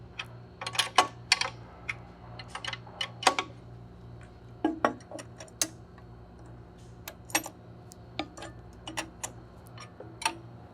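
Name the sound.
hand tightening motor mount bolts on a blower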